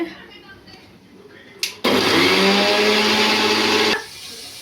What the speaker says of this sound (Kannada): ಪುದೀನ ಸೊಪ್ಪು, 5 ಹಸಿಮೆಣಸಿನ್ಕಾಯಿ, ಅದಕ್ಕೆ ಸ್ವಲ್ಪ ವಾಟರ್ ಸೇರಿಸಿ ರುಬ್ಕೊಂಬನ್ನಿ